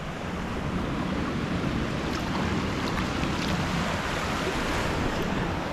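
A waterfall at a campground, swollen by flood water, roars as a steady, loud, broadband rush of falling water that stays constant and close, with some wind buffeting and no talk.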